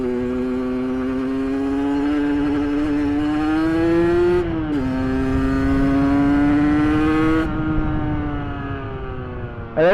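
A 50cc motorcycle engine drones and revs close by, pitch climbing steadily, dipping briefly, then rising again in a buzzy whine.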